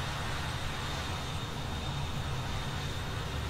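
Steady, broad whooshing jet engine roar at 60% throttle in Microsoft Flight Simulator 2020, constant and unbroken, with no talk over it.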